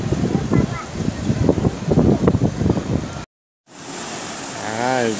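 Wind and surf at Sanur Beach in Bali roar as a steady broadband wash, with rhythmic wave thumps and a voice talking over it, then a brief dropout before the gusty noise returns.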